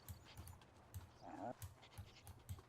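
A dog in The Sims 2 video game pants in quick, rhythmic breaths with a brief whimper midway, close but quiet and steady from start to end.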